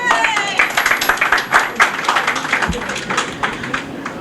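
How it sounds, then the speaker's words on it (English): An audience applauds an elected state assembly member at a Greek restaurant's 30th anniversary event, with steady, dense clapping throughout and a murmur of voices underneath. "Give Roozbeh a round of applause"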